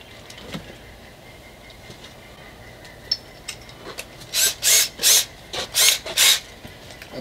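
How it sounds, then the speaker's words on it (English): Gouging a hole into a Boston Whaler boat produces scattered scrapes, then a run of loud, rhythmic rasping strokes near the end, close to the microphone. "I got to gouge a big, huge hole in there for about an inch"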